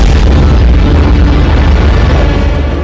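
Powerful air-strike explosions in Beirut, Lebanon, at night: a dense, continuous low-frequency roar and rumble, loud and sustained across the whole stretch with no clear gaps between blasts.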